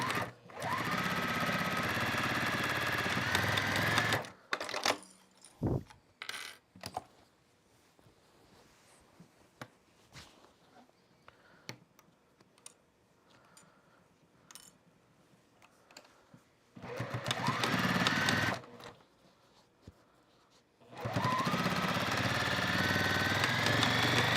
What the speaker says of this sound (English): I'm going to back stitch at the start and end.